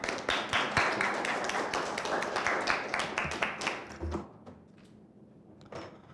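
A forum audience claps steadily for about four seconds, dense and fairly close, then the applause stops abruptly, leaving a few scattered claps and room noise.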